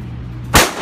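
A single sharp gunshot cracks out at a shooting range, loud and close, following a low steady hum, with a brief decaying tail.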